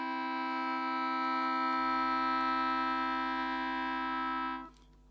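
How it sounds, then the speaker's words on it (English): A steady, pure harmonic tone holding the fifth overtone, a flattened major third, sustained evenly for several seconds at a constant level before cutting off abruptly, with no voices. "It's the sound of the fifth overtone sounding."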